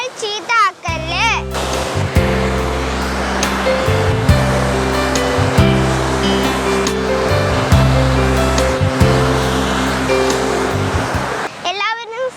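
Kattara waterfall near Puthukkulangara roars as a loud, steady rush of falling water that fills the scene, with voices talking briefly at the start and end.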